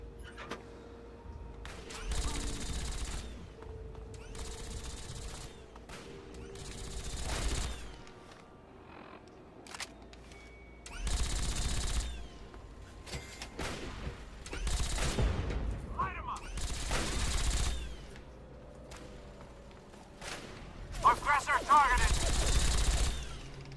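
Gunfire in the game Fallout 3 erupts in several separate bursts of rapid shots, rising and falling between quieter stretches, with a voice speaking between volleys.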